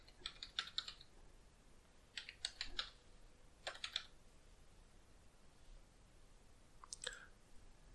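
Keys clatter on a computer keyboard in short, quick bursts separated by pauses, quiet and close, as details are entered during a Linux installation.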